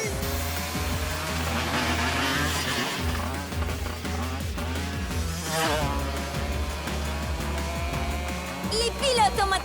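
Cartoon go-karts race on a track, engines whining and revving loudly with shifting pitch as they pass, under excited talk.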